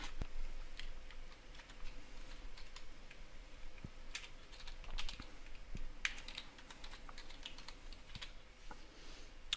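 Name being typed on a computer keyboard during a Windows 7 clean install, a steady run of close, crisp key taps with irregular rhythm and no talk.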